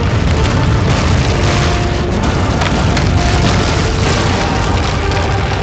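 An explosion in the video game Asura's Wrath roars as a dense, continuous wall of booming, crackling debris noise, loud and sustained throughout.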